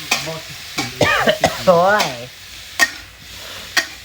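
Shellfish stir-frying with holy basil, a loud sizzle cut by sharp spatula clacks against the pan, while a voice talks or sings over it in the middle.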